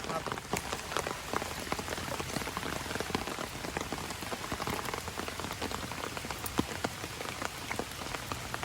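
Rain falls steadily outdoors during a rural Thai fishing trip to check traps, a dense, close patter of drops on surfaces throughout, with some talking underneath.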